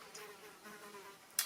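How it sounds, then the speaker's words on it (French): A housefly buzzing close by, a faint wavering drone with slight rises and falls, ending in a brief sharp knock. "évidemment j'ai une mouche qui m'arrive en même temps"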